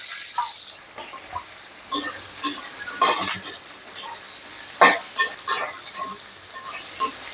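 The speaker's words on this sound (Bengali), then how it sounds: "আলুটা কয়েক মিনিট ভাজবো।" Sliced potatoes and onions fry in a pan with a crackling, spitting sizzle, mostly high-pitched. Sharp clinks and scrapes from stirring break through at intervals.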